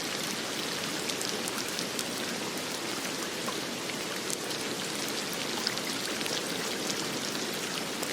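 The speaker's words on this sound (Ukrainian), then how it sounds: "Вірно, це дощ." Steady rain patters on a surface, a dense, even hiss of drops continuing throughout with no voices.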